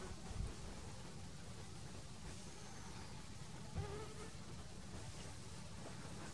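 Mosquitoes and flies around a lake on a windy summer day: a faint, steady insect buzz over a soft wind rush, with a couple of brief dull thumps and no talking.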